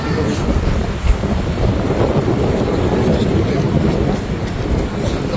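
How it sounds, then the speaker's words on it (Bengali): Strong wind roars steadily into the microphone at Quba Mosque in Medina, a constant low rumbling buffet with no pauses. "এখানে বাতাস, প্রচণ্ড বাতাস, গাছগুলো দেখে"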